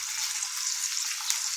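Artichokes sizzle and crackle steadily as they fry in a pan, a continuous bright hiss with small pops throughout and no voices.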